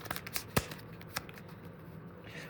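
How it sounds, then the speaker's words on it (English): Warped playing cards from the Lords of Baseball board game being shuffled by hand, a quick run of riffling snaps with one sharp louder slap, then softer sliding rustles, close and quiet. "let's do one final shuffle"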